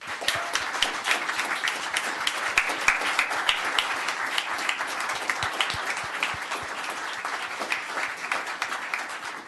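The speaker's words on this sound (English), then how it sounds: "I want you all to join me in giving them a very big round of applause." Dense, steady audience applause fills a town council meeting chamber as many hands clap continuously for a group from a parade, loud and sustained throughout with no talking.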